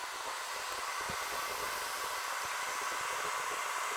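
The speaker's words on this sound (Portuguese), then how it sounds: "Minha mãe tá passando secador de cabelo." A hair dryer runs steadily nearby, a constant loud airy whooshing hiss with a faint motor whine, heard alone without speech.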